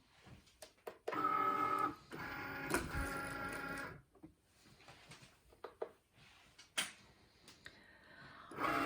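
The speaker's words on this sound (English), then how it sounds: "let's get our mat into the Cricut machine" A Cricut cutting machine draws in a cutting mat for faux leather bat earrings, with motorized whirring bursts, clicks and short mechanical pauses, close and quiet.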